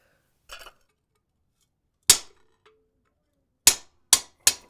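A hammer drives a chisel into wrought iron with sharp, ringing metallic strikes: one soft tap, then four hard blows spaced in a quick, uneven rhythm, each cutting off into silence.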